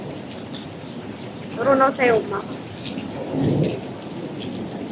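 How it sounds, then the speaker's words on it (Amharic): Steady rainy-season rain patters on surfaces throughout, with a low roll of thunder rumbling near the end; a voice briefly speaks over the downpour. "ዝናቡ ጉርምርምታው እራሱ ይሰማችኋል።"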